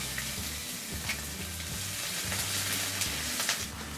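Sliced onions go into hot oil already crackling with mustard seeds and urad dal, giving a close, continuous sizzle and spatter with a few brief stirring scrapes, and no voices.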